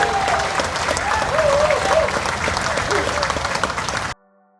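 Crowd applause at an outdoor groundbreaking for a senior park and pet park under an expressway in Pandacan, loud steady clapping with a voice rising over it, then cutting off abruptly.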